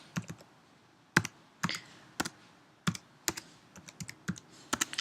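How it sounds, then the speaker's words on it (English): Computer keyboard typing comes in sharp, irregular clicks and short bursts of keystrokes, close and fairly quiet, with no speech. "Probably typing this terribly."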